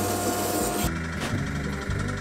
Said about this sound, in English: Looking good out of that sandpaper.